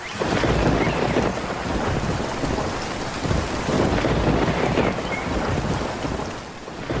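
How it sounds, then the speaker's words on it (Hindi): A fierce cartoon windstorm roars steadily, a broad rushing blast of wind with rain-like hiss and low rumble, loud and unbroken throughout with no voices. "मगर एक दिन बहुत ही तेज आंधी तूफान आ जाता है।"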